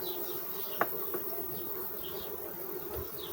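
Honeybees drone steadily around an opened hive with no larvae left, a constant low hum with a few brief closer buzzes passing by.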